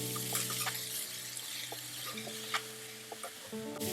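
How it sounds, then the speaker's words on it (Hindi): Mixed vegetables stir-fried on a high flame with a little salt, a steady close sizzle broken by frequent scraping stirs of the pan, with a faint constant hum underneath. "ये देखिए हमने स्टिर फ्राई कर लिए हैं हमारे वेजिटेबल्स"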